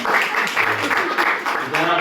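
Applause from an audience at a village gathering, honouring Ramli and his team; brisk, fairly loud clapping that holds steady for the full short stretch, with no voices over it.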